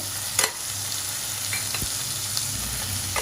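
Finely chopped tomato cooks in a pan for Koli-style prawn masala, a steady close sizzle with a few sharp spoon scrapes and clinks, no voices.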